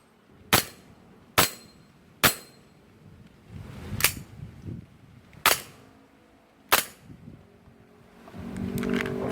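BB gun firing different pellet types in a shooting test, six sharp, loud cracks spaced about a second apart, followed by a rising rumble near the end.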